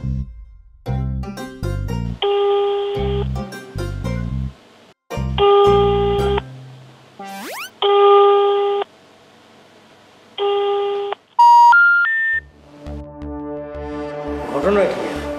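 A telephone rings on without being answered, sounding as four evenly spaced ringing tone bursts separated by gaps, mixed with short electronic beeps and a quick tonal flourish near the end.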